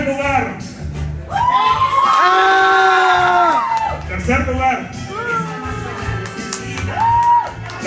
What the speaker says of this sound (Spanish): vamos a darle aplausos al tercer lugar.